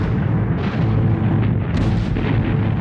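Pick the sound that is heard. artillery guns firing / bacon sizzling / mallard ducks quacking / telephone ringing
artillery guns firing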